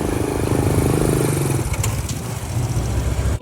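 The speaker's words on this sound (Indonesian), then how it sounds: "Tak lama, motor metik berhenti di depan." An automatic scooter idles near and steady with a low engine rumble, the tone dropping and easing after about a second and a half as it pulls up and stops, leaving a quieter idle.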